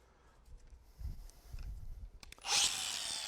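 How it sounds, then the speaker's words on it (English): An angle grinder bites into a metal bolt, bursting in loud and harsh near the end after a stretch of low handling thumps and rustle, then holding a bright, steady grinding whine. "So let's go ahead and grind this bolt."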